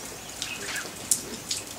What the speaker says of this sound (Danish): Det regner og har regnet det meste af natten.